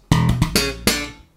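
Short slap bass lick, the opening variation of a riff repeat: five sharp plucked and slapped notes in quick succession, loud and close, the last ringing out.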